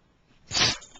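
A dog gives a single short, sharp sneeze, a quick burst of breathy noise up close after a quiet moment.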